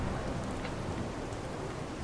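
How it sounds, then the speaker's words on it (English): Steady rain hisses in Fallout 4, a dense, even wash of falling drops with no break, moderately loud and alone. "I'm not enjoying this rain"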